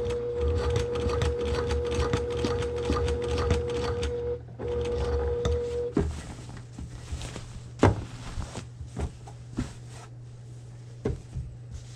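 Sewing machine stitching a quilt along dotted lines, a steady mechanical hum and whir for several seconds, then a short pause and a stretch of intermittent clicks and handling knocks, close up with no talk.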